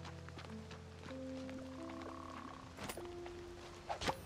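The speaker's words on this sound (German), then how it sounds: "Meine Kröte." A toad in the farming game Fae Farm gives a few faint croaking calls over a quiet ambient background, with a brief louder burst near the end.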